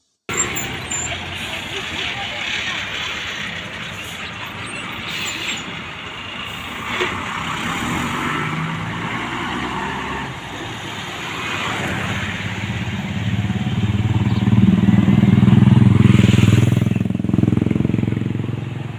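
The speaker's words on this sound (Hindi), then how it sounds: "हुकूमत तरफ आयद बंदिशों बावजूद सड़कन पे ट्रैफिक चलनस छन गसान।" Road traffic in Kashmir with cars and motorcycles passing, engine noise rising to a louder near pass toward the end, under a news reporter's voice.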